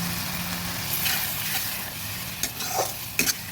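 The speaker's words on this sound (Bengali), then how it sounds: "ভালোভাবে নেড়ে দিলাম।" Ground cumin, coriander, turmeric and chili powder being stirred with a little water in a pan for mixed dal. A soft, continuous scraping sizzle runs under a few sharper spoon scrapes near the end, quiet and close.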